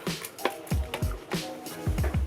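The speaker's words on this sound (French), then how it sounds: "avant d'être interrompu par cette petite cascade de mon appareil photo" A camera tumbles down mid-unboxing, a string of sharp thumps and clattering knocks in quick succession, close and fairly loud.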